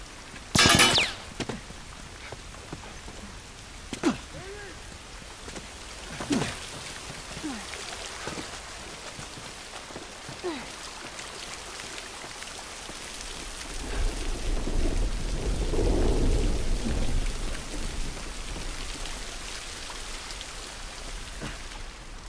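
Rain in the video game The Last of Us, a steady soft hiss of falling rain with scattered sharp cracks and drips early on, swelling into a heavier low rumble like thunder toward the end.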